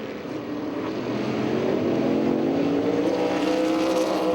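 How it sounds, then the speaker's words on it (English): Modified race cars racing at Lime Rock give a sustained, rising engine drone that builds in loudness as they pass, with no speech. "I love how those cars go through the S's and run over the rumble strips"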